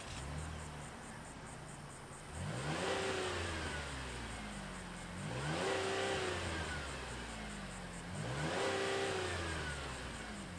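The V6 engine of a 2023 Chevrolet Traverse RS all-wheel-drive SUV starts and revs three times in steady succession, each rise swelling to a throaty roar before dropping back to a low idle.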